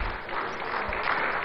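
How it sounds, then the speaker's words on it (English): Applause from an audience at a rally where South African EFF leader Julius Malema speaks in Accra, Ghana; a steady, dense wash of clapping continues evenly through the short moment, moderately loud with no talk over it. "Round of applause, please, for them."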